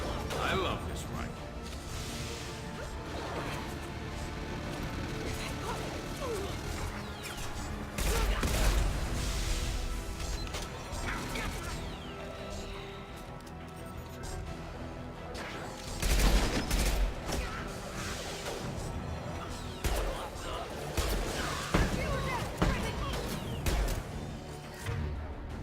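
Rifle fire from the Mass Effect video game keeps cracking through a dense, busy battle mix. Louder bursts come in clusters, and voices talk over the combat.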